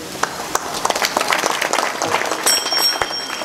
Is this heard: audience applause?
yes